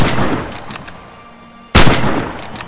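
An MG34 machine gun fires in the World War II shooter Red Orchestra. Rapid, loud gunfire rattles, eases off, then a sharp, close blast hits and reverberates.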